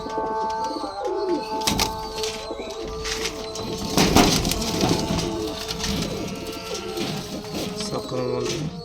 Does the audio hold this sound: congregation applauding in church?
no